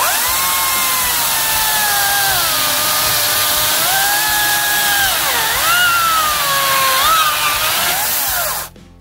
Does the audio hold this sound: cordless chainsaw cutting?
yes